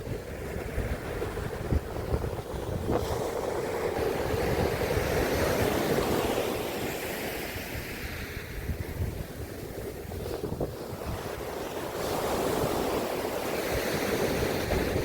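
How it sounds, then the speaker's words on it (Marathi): Sea waves at Revdanda beach near Alibag, a continuous rushing surf that swells and recedes, with wind buffeting the microphone throughout. "हा जो रेवदंडाचा समुद्र किनारा आहे, तिथे आपण छानपैकी आनंद घेत आहोत"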